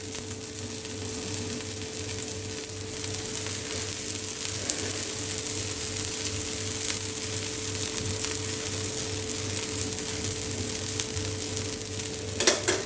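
Kabuli soya tikki patties sizzling in a little oil in a pan over low to medium flame, a steady even frying hiss with no talking.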